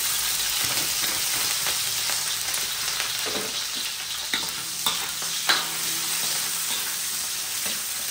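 Chopped onion and garlic sizzle in hot oil in a pan, a steady frying hiss broken by a few soft stirring clinks and scrapes.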